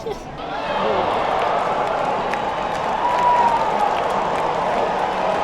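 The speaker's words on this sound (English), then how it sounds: "Once again, Seattle scores. And a decent amount of cheers coming from the crowd." A hockey arena crowd cheering and applauding after Seattle scores, a broad, steady roar of many voices that swells slightly midway and holds without letup.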